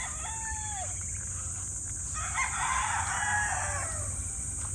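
Several stag roosters crow from a poultry cording area, with clear drawn-out cock-a-doodle-doo calls overlapping through the clip and some clucking, against a steady background hum.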